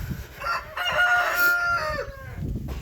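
Australorp chickens in a backyard run cluck and let out a drawn-out crow at close range, fairly loud for most of three seconds, with no speech over them.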